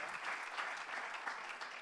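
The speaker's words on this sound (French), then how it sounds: "Je vais vous demander de les applaudir" A presentation audience claps steadily and fairly loudly throughout the short stretch, a dense even patter of many hands with no voice over it.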